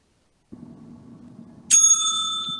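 A single bright ring from a debate timekeeper's bell during a school debate round, sharp and close with a lingering ring after a low murmur of background noise.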